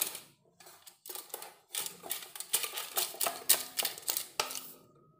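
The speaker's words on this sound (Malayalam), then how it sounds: "ആ ബട്ടർ പേപ്പർ വെച്ച് കൊടുത്തിട്ടുണ്ട് അതിൻ്റെ മുകളിലേക്ക് ആ ബ്രഷ് വെച്ച് വെറുതെ ഒന്ന് ഇങ്ങനെ ഓടിച്ചു കൊടുക്കുക" A pastry brush swept repeatedly over butter paper lining a cake tin, giving a series of crisp papery scratching strokes in a steady rhythm, close and fairly soft.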